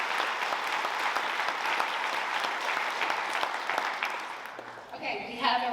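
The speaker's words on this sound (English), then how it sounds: "We just want to give them a round of applause as well" A town hall audience claps for event volunteers in a steady round of applause that fades near the end as a voice begins speaking.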